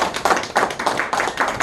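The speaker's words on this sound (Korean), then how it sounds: "감사의 박수를 한번 치도록 하겠습니다." Audience applause at a lecture on independence-movement poetry at a library, a dense, steady patter of many hands clapping together for under two seconds, with no talk over it.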